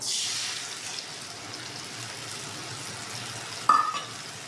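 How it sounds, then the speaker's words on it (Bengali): Spice paste mixed with a little water poured into a frying pan of katla fish jhal, giving a brief loud hiss at the start that settles into a low, steady sizzle, with a single sharp clink near the end. "এই মশলাটা আমি অল্প জল দিয়ে গুলে দিয়ে দেবো।"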